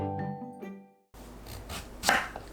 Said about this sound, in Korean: 가지는 꼭지와 가지 끝을 잘라냅니다.